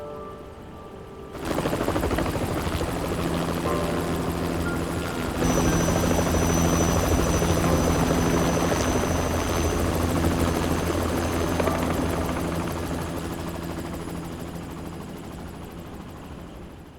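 Helicopter in the video game Yakuza 3, a loud, steady rotor drone that kicks in after a quiet start and holds for many seconds, with a deep thrumming chop and whine, slowly easing toward the end.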